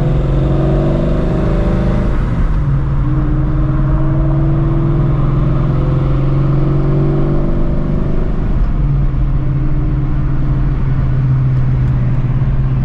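Ford Shelby GT350 heard from inside as it drives and accelerates, a loud, continuous engine drone with a deep rumble that shifts pitch through gear changes over nearly thirteen seconds.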